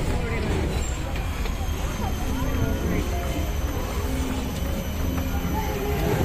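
Singapore Zoo tram rolling along steadily, a continuous near rumble of motor and wheels with faint rattles throughout, voices faintly mixed in.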